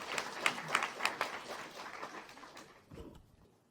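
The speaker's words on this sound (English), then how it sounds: "We could give Anastasiya a round of applause." A small audience at a living textile architectures symposium on engineering biology claps for a speaker, a short scattered burst of applause that is strongest at the start and thins out toward the end.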